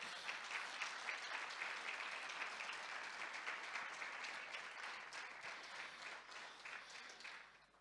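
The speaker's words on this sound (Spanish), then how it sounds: "¿Cuántos le dan un aplauso al Señor?" Church congregation applauding together: dense, steady clapping that fills the whole stretch, moderately distant and even, fading slightly toward the end.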